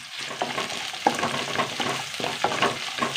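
Small chopped chillies frying in oil in a pan while being stirred, a crackling sizzle broken by repeated scraping strokes of a spoon at an even rhythm, close and moderately loud, with no voices.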